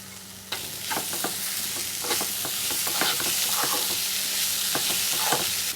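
Chopped chicken with chili powder sizzles steadily in a hot pan while a spoon scrapes and stirs in repeated sharp strokes, loud and close throughout.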